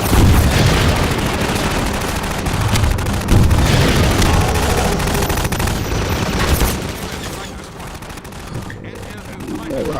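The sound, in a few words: rockets firing and exploding in a video game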